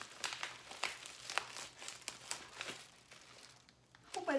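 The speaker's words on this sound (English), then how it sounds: "Just cut into some blue paper." Scissors cutting into blue paper while opening mail, giving a string of close, crisp crinkling snips and rustles that fade toward the end, with a faint low hum underneath.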